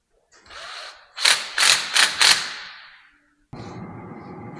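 Four quick ratcheting bursts from tightening a hose clamp on a John Deere sprayer, close and fairly loud, set between softer scraping and a steady mechanical hum at the end.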